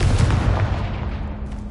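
The Confringo blasting spell in Hogwarts Legacy lands with a heavy booming explosion, loud and close at the start, then rumbles and decays over a second or so.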